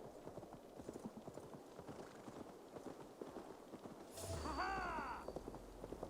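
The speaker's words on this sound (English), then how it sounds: "the unnamed horses that you just summon behind you in this game" A summoned horse gallops in Assassin's Creed Valhalla, its hooves clip-clopping in a fast, steady rhythm throughout, then a whinny and rising whoosh sound near the end over continued hoofbeats.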